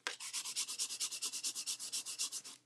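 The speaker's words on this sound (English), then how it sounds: "Push it into place. Give that a burnish." A handmade paper birthday card is burnished with about twenty quick, even rubbing strokes in a steady rhythm. The scraping sound is close and clear, with no voices.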